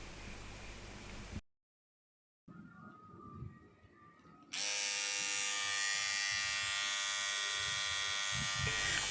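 A Beardo Beast electric beard trimmer switches on and runs with a steady, loud buzzing hum lasting several seconds, following quieter handling noise and a short silent gap.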